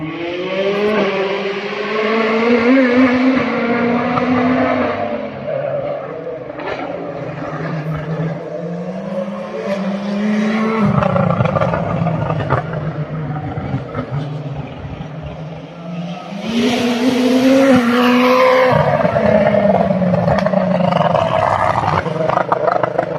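Rally cars at the Rallye des Montagnes de Lyon near Limonest, engines roaring loudly and climbing in pitch through gear changes as they accelerate past, close and sustained with a second car surging in.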